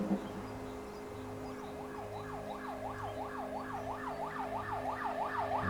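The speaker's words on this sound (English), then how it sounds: "And here comes the ambulance." An ambulance siren in a video game wails in a rapid, regular rising-and-falling pattern, steady and fairly close, over a low engine-like hum and a constant tonal drone.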